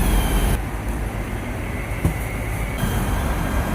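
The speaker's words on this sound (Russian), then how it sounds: "Метро" Steady rumble of a Moscow metro train running, a broad continuous roar with a high whine, no talk, loud and close throughout.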